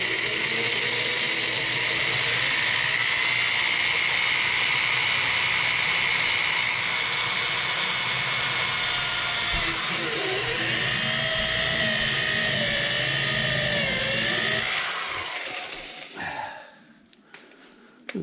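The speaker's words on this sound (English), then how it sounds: "that step drill has made a half decent size hole" A step drill boring a hole through metal on a Jaguar MKII heater box, a continuous loud high-pitched whine and grinding chatter that holds steady, shifts pitch as the bit bites deeper, then cuts off abruptly near the end.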